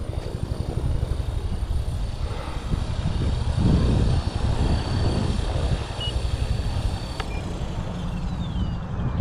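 Blade Fusion 360 3S RC helicopter flying outdoors, its rotor and motor giving a continuous whirring drone with shifting pitch, moderately loud and steady throughout with no voices.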